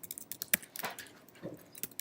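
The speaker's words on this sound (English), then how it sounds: "I'll double click on the button and I'll start typing my code" Quiet, close typing of code on a computer keyboard, with a quick irregular patter of key clicks and one sharper tap, and no voices.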